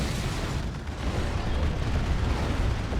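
Artillery barrage in the Warhammer 40,000 strategy game Dawn of War 2, heard during a 3v3 match as a continuous rumbling roar of overlapping explosions. The booms stay loud and dense throughout, with no clear gaps between them.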